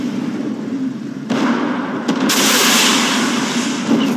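A missile strikes and destroys a tank in Armored Warfare: a sharp blast followed by a second crack, then a loud, sustained roaring burst of explosion noise that slowly settles.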